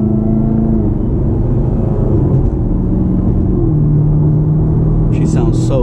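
A 2019 Chevrolet Camaro ZL1 1LE automatic, driven in manual mode, drones steadily with a deep, loud engine rumble and shifting pitch at highway speed, with a brief higher whine near the end.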